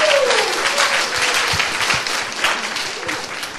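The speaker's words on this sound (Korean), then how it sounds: "다시 한번 박수 부탁드립니다." An audience at a Korean radio station's anniversary essay contest applauds in dense, sustained clapping for a few seconds, fairly loud and close, with a brief voice in the background.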